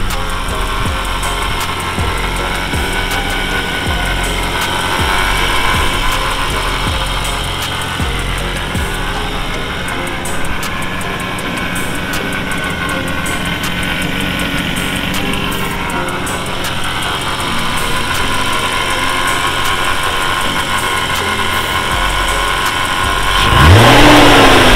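A supercharged BMW S50 car engine idles with a steady close rumble, swelling with light revs now and then and a louder rev near the end, with no voices over it.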